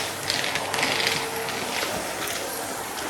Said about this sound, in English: The vacuum cleaner noise sounds different.